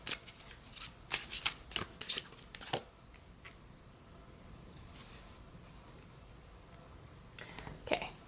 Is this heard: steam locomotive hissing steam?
no